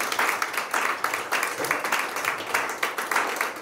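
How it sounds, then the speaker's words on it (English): Steady audience applause, many hands clapping in a dense, continuous patter at moderate distance, with no one speaking. "so give her a big hand of applause again."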